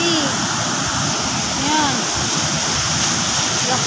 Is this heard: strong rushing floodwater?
yes